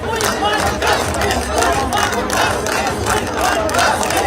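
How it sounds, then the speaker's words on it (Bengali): A large street protest crowd chants and shouts a justice slogan together, a loud, dense roar of many voices with rhythmic surges, close and continuous. "উঠল সেই উই ওয়ান্ট জাস্টিস স্লোগান।"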